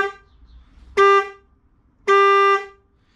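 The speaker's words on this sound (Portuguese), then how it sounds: "É uma buzina Denali. Muito boa." Two loud, sustained blasts from a Denali horn fitted to a Honda CB500X motorcycle, each about half a second, separated by a short pause, bright and close.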